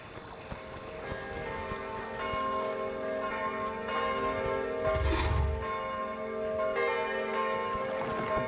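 A bell rings repeatedly aboard a ship in the video game Kingdom Two Crowns, its sustained tones layered over a game soundtrack and flowing water.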